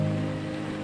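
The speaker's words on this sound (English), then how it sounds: "Galveston is getting pummeled by wind and rain right now" Dense roar of hurricane wind and driving rain in Galveston, loud and continuous through a short burst, with no voices.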